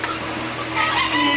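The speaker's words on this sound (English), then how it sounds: "He's happy already just hearing the chickens." Chickens on a farm, with a rooster or hen clucking softly and continuously at close range over a brief moment, with no voices.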